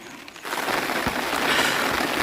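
Steady monsoon rain pouring down on a trek at Sinhagad fort in fog, a dense hiss of drops that grows heavier after a quieter start and stays loud and continuous.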